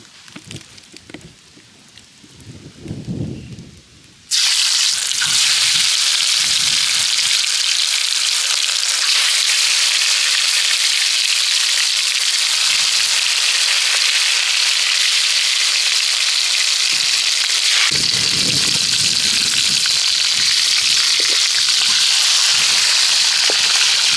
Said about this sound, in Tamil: அதுக்கு வந்து மீனை வந்து பொரிச்சு எடுத்துக்குவோம்